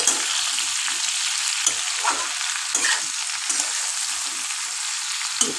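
Cut okra frying in a pan with turmeric, a close, steady sizzle with frequent spoon stirs and small scraping taps against the pan, no voices.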